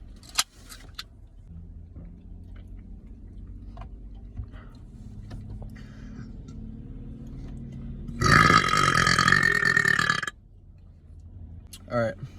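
A loud, long burp after drinking Sprite, rumbling for about two seconds, with quieter ticks and rustles before it and a brief extra gulp near the end.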